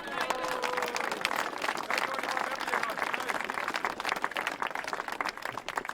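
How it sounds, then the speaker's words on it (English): Clapping from a gathering at a club function after a league final, a busy, fairly distant patter of many hands with murmured voices mixed in, steady throughout. "I think he deserves a round of applause on his own there"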